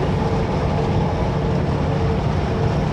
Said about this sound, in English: It's incredibly windy.